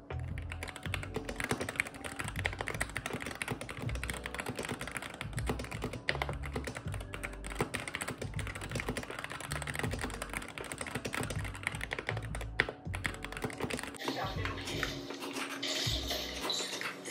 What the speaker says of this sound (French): je vais vous faire écouter quel son produit ce clavier